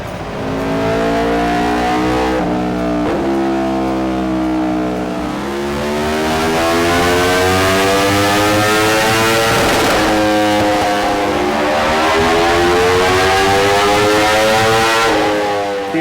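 A 2020 Aprilia RSV4 1100 Factory V4 sport bike revs hard on a dyno, roaring loud and close as the pitch climbs through repeated rising sweeps and dips, with no voices over it.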